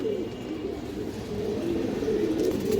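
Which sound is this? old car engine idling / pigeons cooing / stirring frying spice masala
pigeons cooing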